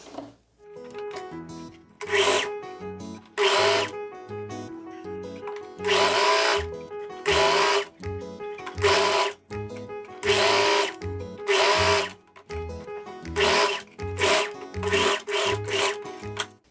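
A sewing machine stitches a 4 cm turned hem on a viscolinho linen-blend jumpsuit, running in repeated bursts of rapid whirring separated by brief pauses, close and clear with no talking.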